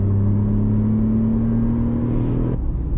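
A Tata Tiago i-CNG with an AMT gearbox and paddle shifters hums along at speed, then its engine tone drops abruptly as it downshifts, heard loud and close from inside the cabin.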